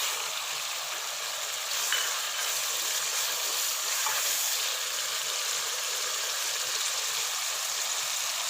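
Ginger garlic paste fries in a pan for urad dal, a steady, hissing sizzle that holds evenly throughout, close and without talk.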